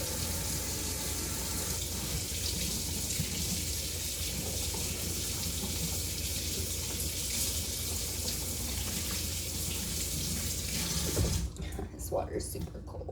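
Cold water runs steadily from a kitchen tap into a sink as bell peppers are prepped, a continuous close hiss that stops abruptly near the end, with a few clunks afterward; a voice talks over it.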